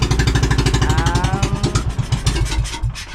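A boat engine runs steadily near an island, its pulsing low throb chugging in a fast, even rhythm and staying loud throughout with no talk over it.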